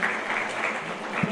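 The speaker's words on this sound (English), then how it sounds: "A round of applause for him" Audience applause at an international education conference, steady dense clapping filling the hall throughout the short stretch, with a faint voice near the end.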